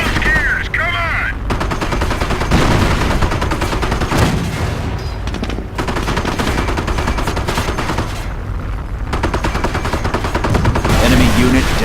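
A Company of Heroes battle set in the Normandy invasion rattles with loud, rapid machine-gun bursts and repeated gunshots, with occasional heavy booms as the firing continues densely throughout.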